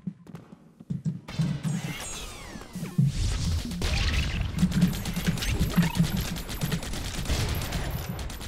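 Rapid game weapon fire, explosions and crashing impacts from rocket launchers in the robot shooter Holodrive, a dense, continuous barrage of blasts with brief whooshes after a short quiet start.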